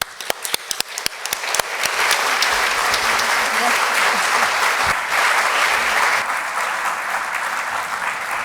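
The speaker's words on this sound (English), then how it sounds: "an applause for Justice Ginsburg and Ruth Rubio Marín" An audience applauds Justice Ruth Bader Ginsburg at a public conversation event, opening with a few scattered claps that swell into loud, sustained applause from a large crowd.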